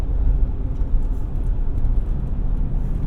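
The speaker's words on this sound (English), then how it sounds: "Oh, that was a good downshift." A 1980 BMW 733i downshifting while driving, a low steady engine drone with road noise from inside the car, no talking.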